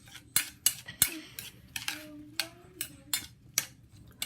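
Smashed cucumber being mixed with seasoning in a bowl, a run of sharp utensil clinks and taps at an uneven rhythm, close and fairly loud, with no talking.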